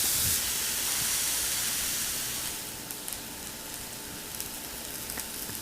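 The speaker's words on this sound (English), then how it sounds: "go ahead and add your leeks. Continue sautéing." Leeks sauté in a pan for braised lamb with lentils, a steady hiss that is loud at first, then settles lower with a few faint clicks.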